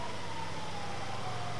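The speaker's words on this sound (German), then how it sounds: "Weil die Sirenen anhaben." Police car sirens in the video game GTA V wail steadily through a dense, loud wash of traffic and engine noise, continuous and fairly close across the whole short stretch.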